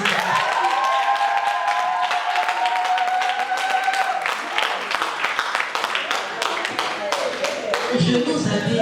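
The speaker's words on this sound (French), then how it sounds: "acclamations, s'il vous plaît" Applause from an audience at a conference panel, a dense, steady patter of many hands clapping that fills the room, with a voice speaking over it.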